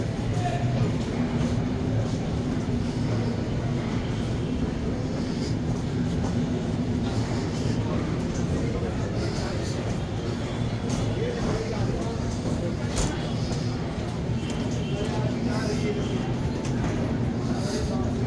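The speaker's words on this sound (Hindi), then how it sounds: "ये आ गई हैं ट्रेनें।" Trains arriving at Saharanpur railway station, a steady low rumble and clatter of rail cars under the busy murmur of a station crowd, with people talking nearby throughout.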